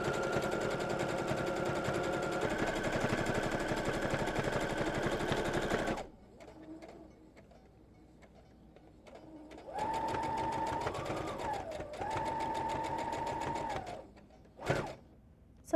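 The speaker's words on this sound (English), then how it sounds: "I'm going to sew all the way down the side, but leave about 1 inch open at the end" A sewing machine runs fast and steady down a shirt side seam, stops for a few seconds of near quiet, then starts again for another long burst before a final short thump.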